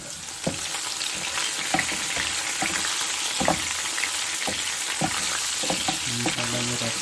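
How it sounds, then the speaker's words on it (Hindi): Dry red chillies fry in nearly finished curry saag, giving a continuous soft sizzle broken by scattered spatula taps and stirring knocks, fairly quiet and close, with no talking. "और हम इसमें ये सूखी मिर्च इसमें डालेंगे।"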